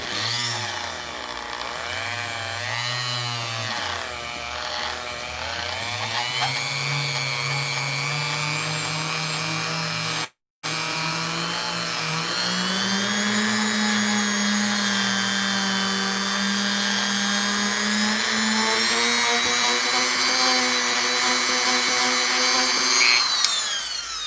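A rotary sanding cone whines and grinds continuously against plastic, its pitch rising and falling as it works the material, stopping briefly before resuming, loud and close.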